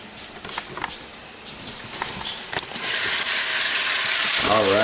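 Chicken adobo fries in a pan with a crackling sizzle that swells louder and steadier partway through, and a voice is heard briefly at the end.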